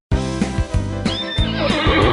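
A horse neighs loudly and close, a series of rapid whinnying pulses with a few hoof-like knocks, heard alone over about two seconds.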